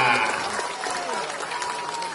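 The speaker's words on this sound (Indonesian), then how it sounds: "tepuk tangan buat semuanya" Crowd applause at an outdoor political campaign rally in Brebes, Indonesia, a continuous wash of clapping mixed with cheering voices, fairly loud and sustained throughout.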